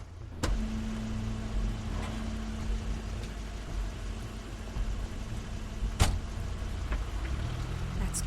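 A car arrives in the video game The Wolf Among Us, a steady low engine hum with a sustained tone, a couple of sharp clicks and a thud near the end, moderately quiet and without speech.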